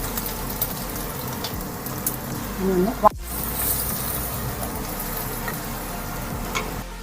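Garlic and ginger frying in coconut oil with fenugreek seeds for a fish curry give a soft, continuous sizzle and hiss with brief stirring scrapes, partly under a voice, broken by a sudden cut midway.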